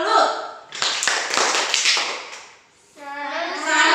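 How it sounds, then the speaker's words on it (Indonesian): Schoolchildren in a classroom clap a quick rhythmic 'tepuk salut' routine, a burst of crisp sharp hand taps between chanted voices. "Tepuk salut."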